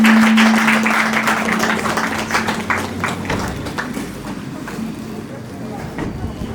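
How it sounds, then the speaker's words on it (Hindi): An audience applauds for a chief guest at a designer showcase event, a burst of scattered clapping that thins out over several seconds while voices carry on underneath. "तालियां बजनी चाहिए।"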